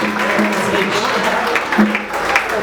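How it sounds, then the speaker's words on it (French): An audience at a church teaching session claps steadily for a few seconds while a voice keeps speaking over the applause. "Acclamez très fort."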